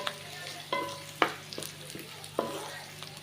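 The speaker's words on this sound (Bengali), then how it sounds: "এখন আমি পেঁয়াজগুলো ভেজে নেব" Onions frying in hot oil in a home kitchen for a cauliflower korma, with a soft steady sizzle broken by several sharp clanks of stirring against the pan.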